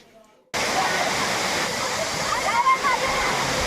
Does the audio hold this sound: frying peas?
no